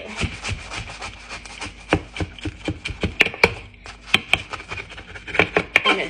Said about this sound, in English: nylon knife, and I can just cut the sliders, and it actually cuts